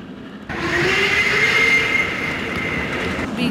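Train passing in the Trainz driver simulator during a race, a sudden loud rush of rolling wheels and wagon noise with a squealing tone, sustained close by with no talk.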